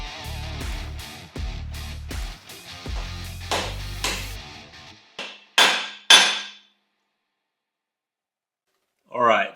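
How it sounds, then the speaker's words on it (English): Bushings being hammered into a 6L80e transmission, a series of sharp metallic blows in uneven bursts, close and loud, followed by silence and a short final clatter. "Now we're going to get these bushings put in. So I'll drive them in,"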